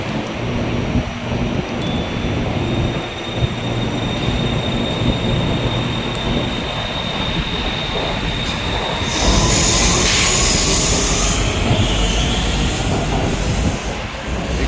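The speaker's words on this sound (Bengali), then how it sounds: "এই হচ্ছে বেসিক্যালি এদের মেট্রো।" A Bangkok metro train rolls through the station with steady rumbling wheels, squealing rail noise and a loud rising hiss as it pulls in, close and continuous throughout.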